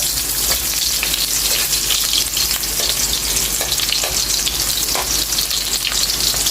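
Onions sautéing in cooking oil in a pan for chicken adobo, giving a steady, close, loud sizzle with light crackling and occasional stirring clicks throughout, with no talking.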